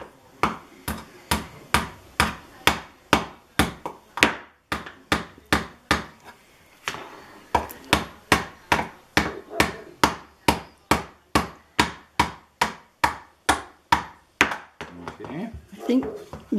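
Someone hammers nails into wood while building a bird house, a long series of sharp, evenly spaced close knocks with a few brief pauses. Faint voices come in near the end.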